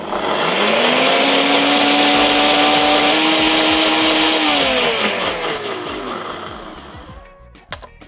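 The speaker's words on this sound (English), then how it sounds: "we're gonna give it a quick blast just to air the juice" Countertop blender giving blood orange juice a quick, loud blast for a cocktail, a steady whirring motor rising in pitch over several seconds, then winding down and cutting off near the end.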